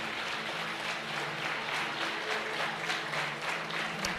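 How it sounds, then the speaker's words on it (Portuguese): Church congregation applauding during a Lord's Supper service, a steady wash of many hands clapping at moderate distance, even and sustained throughout without clear individual claps. "você pode aplaudir a palavra do Senhor"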